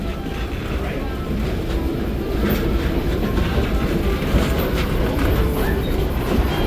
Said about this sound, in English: The next D&H locomotive, 3050, now 102, shoving your train backwards